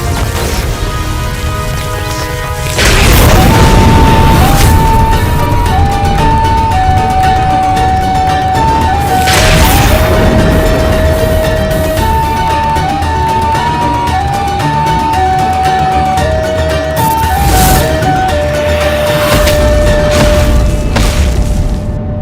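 Explosions in a mythological television drama: several heavy, booming blasts with crashing debris, spaced several seconds apart, ring out loudly over a continuous musical score.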